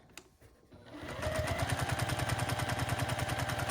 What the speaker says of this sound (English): what we're going to do is we're going to sew a 1/4 inch from this raw edge